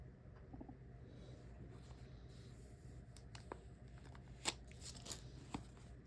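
Paper pages of a Hobonichi journal are flipped through, giving faint, quiet rustles and soft flicks at an irregular pace in a calm room.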